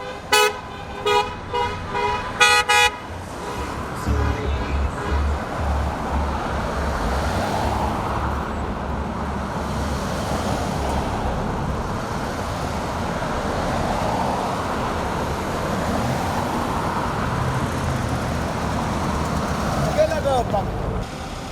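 Car horns toot repeatedly in quick bursts at a South Asian community car rally celebration in Edison, New Jersey, then give way to steady roadway and engine rumble with crowd voices mixed in.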